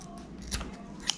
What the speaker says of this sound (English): I'm gonna use my scissors to cut it square off